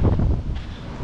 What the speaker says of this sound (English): it's windy, and I know you probably can't hear me